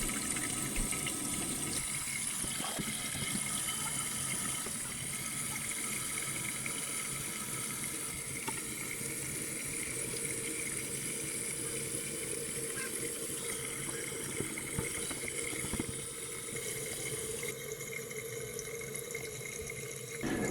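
Water rushes steadily inside a toilet tank after a flush, running on through a leaking flush valve. The hiss is continuous, close and fairly even for about twenty seconds, with no voices.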